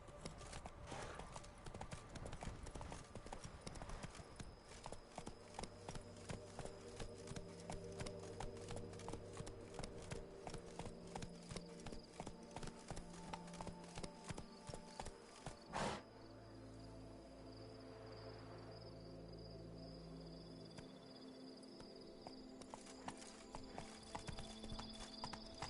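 Steady clip-clop of horse hooves galloping from Witcher 3, continuous rhythmic beats through the whole stretch, with a brief whinny and a change of ground partway, ambient insect chirps underneath.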